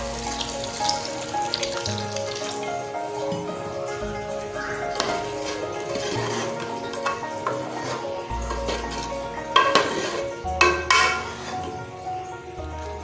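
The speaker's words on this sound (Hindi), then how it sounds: "अब हमें जितनी ग्रेवी चाहिए उतना हम इसमें पानी डालें।" Water splashes into a pan of frying beef kofta curry gravy, a soft pouring and sizzling sound with a few louder splashes and clanks toward the end, fairly faint and close.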